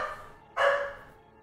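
A single dog bark or yelp rings out from somewhere in the house, fairly close and loud over a faint background hum.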